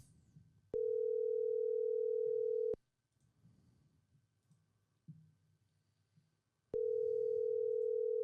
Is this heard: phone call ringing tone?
yes